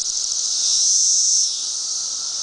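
Cicadas buzzing all around in large numbers, a loud continuous shrill drone that swells slightly and then eases, with no other sounds.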